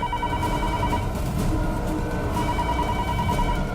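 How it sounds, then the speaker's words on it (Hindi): A telephone rings steadily and loudly in repeated bursts, filling the room with no one speaking. "फोन उठाइए।"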